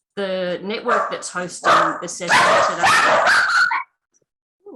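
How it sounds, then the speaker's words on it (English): Several house dogs bark and yip in a rapid, loud burst of overlapping barks and whimpers near the microphone while a person speaks during an online session. "Ooh, sorry about my dogs."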